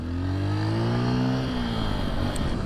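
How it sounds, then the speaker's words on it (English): A nearby car engine revs loudly, its pitch climbing smoothly and then holding at a steady roar, with no voices over it. "That car sounds nice."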